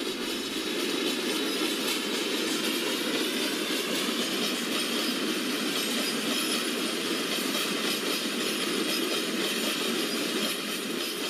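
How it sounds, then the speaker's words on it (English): A Ro-Ro train hauled by twin WDG4 diesel locomotives runs its first trip near Dharwad station, wheels rolling on the track in a steady, loud rumble with faint rhythmic clatter throughout. "Track sound also sounds very good."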